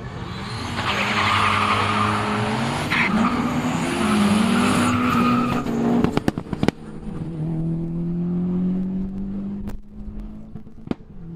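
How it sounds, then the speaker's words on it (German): Opel Astra F GSI Turbo and Audi A3 180 Quattro launching down a quarter-mile drag strip, with loud sustained engine roar, rising revs through gear changes and tire squeal, fading into the distance with a few sharp pops. "Opel Astra F GSI Turbo gegen Audi A3 180 Quattro."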